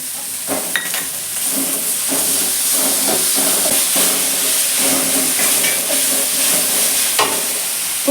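Cabbage sizzles and hisses in a hot pan with ginger garlic paste while being stirred, a steady close frying crackle with scattered scraping clicks and no talking.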